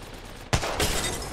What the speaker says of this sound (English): I just sent a creeper shot through the smoke and hope it hits him.